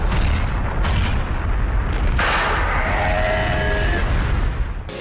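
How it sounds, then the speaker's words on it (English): A cosmic explosion sounds for a Synchro Summon in the Yu-Gi-Oh! Link Evolution video game: a loud booming blast followed by a sweeping, shimmering rumble that swells and fades. "the stars high above in the sky and the fire deep down below in the earth collide in a cosmic explosion to Synchro Summon!"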